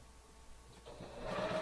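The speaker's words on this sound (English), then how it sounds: "So all I'm doing right now is just sewing my borders together." A sewing machine stitches quilt borders together, a quiet whirring run that starts faintly and builds steadily louder over its final second, heard alone without talk.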